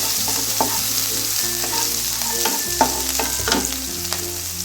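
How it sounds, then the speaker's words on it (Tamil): Chopped ginger and green chillies sauté in a hot pan for aloo paratha stuffing, giving a steady close sizzle with scraping stirs and a few light utensil clinks against the metal. "இது ஃபஸ்ட் நல்லா வதக்கிடலாம்."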